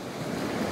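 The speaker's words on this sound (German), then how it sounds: "Obwohl hier manchmal doch die Wellen ganz schön ranrasen." Ocean waves surge onto Haukland Beach in Lofoten, Norway, a brief, close, broadband rush of surf mixed with wind buffeting the microphone.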